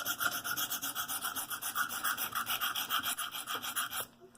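Rhythmic back-and-forth rasping of a Buck 110 knife blade being polished on a KME sharpener, steady close strokes about three per second, ending abruptly.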